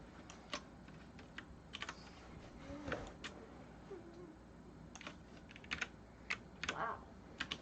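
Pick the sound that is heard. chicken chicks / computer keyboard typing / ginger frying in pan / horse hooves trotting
computer keyboard typing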